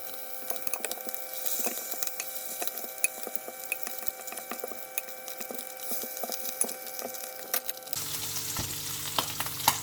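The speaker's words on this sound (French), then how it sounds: "je vais faire cuire les lards." Bacon lardons frying in a pan, with a continuous crackling sizzle and frequent small pops close by, shifting to a lower, fuller frying hiss near the end.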